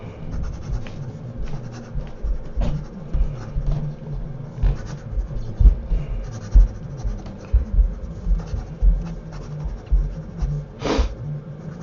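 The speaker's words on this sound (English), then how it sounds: "So let's write quickly." A Pilot Custom 74 fountain pen moving quickly across paper, with close, continuous scratchy strokes in short bursts and brief pauses between words and letters.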